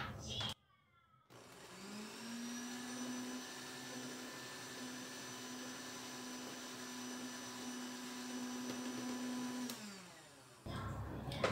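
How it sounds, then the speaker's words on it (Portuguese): An electric mixer beats cornmeal cake batter at low speed with a steady, loud motor whine that holds for about nine seconds. It then cuts off, leaving brief handling noise at each end. "Vou colocar o fermento e bater só até misturar na velocidade baixa."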